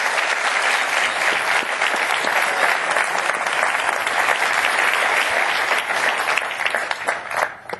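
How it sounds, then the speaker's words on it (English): An indoor audience applauds Mike in a dense, sustained round of clapping that stays loud and even, then thins out near the end. "Let's give Mike a round of applause."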